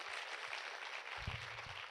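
Audience applause in a motivational seminar hall, a steady broad wash of clapping from many hands across the whole stretch, moderately distant, with no talk over it.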